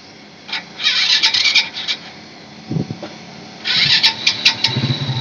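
An SYM RV1-2 motorcycle engine fitted with an SLV carburetor cranks and then fires, with bursts of mechanical starter noise and a low engine note catching near by, alone with no talk.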